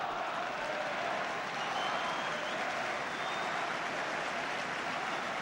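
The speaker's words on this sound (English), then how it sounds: "Big round of applause for Dougan." A football crowd at a 1972 Manchester United versus Wolves match applauds, a broad, distant wash of clapping held steady from start to finish.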